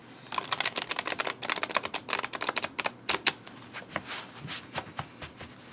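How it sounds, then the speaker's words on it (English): An Angel Tarot card deck being shuffled by hand, producing quick bursts of crisp riffling clicks in an uneven rhythm, close and fairly quiet, with no talking. "so I just gave it another good shuffle"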